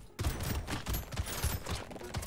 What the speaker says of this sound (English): it's just more explosions with our nuke launcher